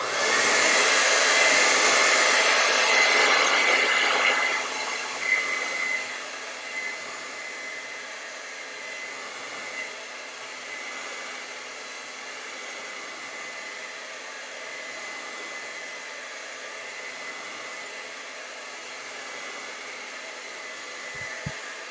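A hair dryer blows over an acrylic-style painting of a Van Gogh vase with zinnias. A loud, close rush of air for about five seconds eases into a softer, steady blowing hum that continues alone.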